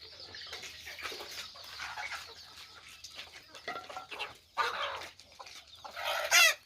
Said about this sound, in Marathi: या आमच्या संपूर्ण कोंबड्या